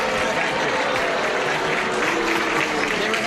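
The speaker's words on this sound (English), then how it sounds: "The people in the audience with good taste are applauding." A studio audience at a 1975 television game show applauds steadily, a dense, sustained clapping that fills the whole moment without talk.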